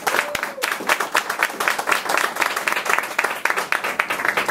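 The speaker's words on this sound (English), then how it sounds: "Can we give them a round of applause to all these guys?" A crowd at a Ryder Trauma Center news conference applauds Miami-Dade and City of Miami police officers, many hands clapping loudly and close in a busy, slightly uneven rhythm that continues without letting up.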